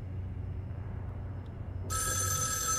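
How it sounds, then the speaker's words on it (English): A telephone starts ringing partway through, loud and steady, in the horror video game Erica, over a low ambient game drone. "the phone that ominously rung at the same time"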